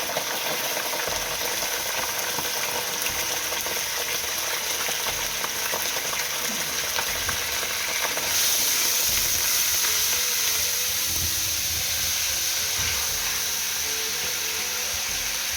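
Ginger garlic paste and two bay leaves fry in hot oil with a loud, continuous sizzle and crackle that swells brighter about halfway through, with occasional stirring scrapes underneath.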